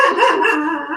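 A dog barks once in a short, loud, close burst indoors, its bark drawn out slightly as it fades.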